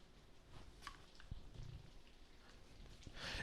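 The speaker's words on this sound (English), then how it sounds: "what's that clicking in the background? It's rain." Light rain patters and clicks softly in the background, a faint, steady scatter of drops on a surface with no voices over it.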